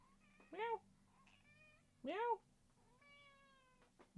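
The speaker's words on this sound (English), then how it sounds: "I wrangled the kitten." A kitten meows twice, each a short, rising-then-falling meow, fairly close, with quiet talk in the background and a faint voice between the calls.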